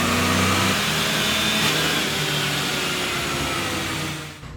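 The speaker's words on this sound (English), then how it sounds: "We took it over to the dyno. We put on the dyno just to get a base horsepower number." A Chevy 454 SS big block truck engine roars loud and close under load on a dyno, holding a sustained high rev for about four seconds before dropping off abruptly at the end.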